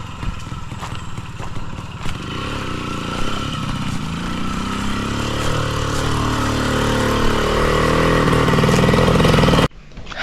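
A motorcycle engine running near a construction site where cement is being hauled, steady loud idle that slowly rises in pitch and intensity before cutting off abruptly near the end.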